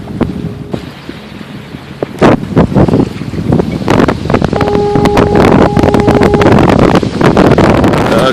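Brisk 20-knot breeze rushing over a sailboat at sea, a steady broadband roar with microphone buffeting that strengthens midway, along with a faint tonal hum and some clattering.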